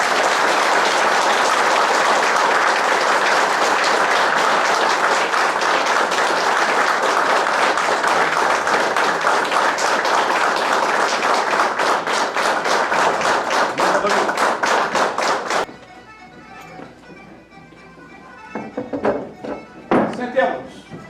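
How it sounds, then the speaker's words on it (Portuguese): Sustained, dense applause from a hall audience greeting the authorities at a Farroupilha ceremonial session, loud and steady for about fifteen seconds before breaking off into scattered claps and room noise. "Saudemos com uma salva de palmas as nossas autoridades."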